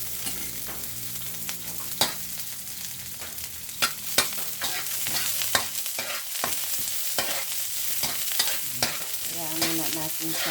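Garlic sizzles in a little cooking oil in a pan, with steady frying hiss and repeated clicks and scrapes of a utensil stirring, close and alone without talk.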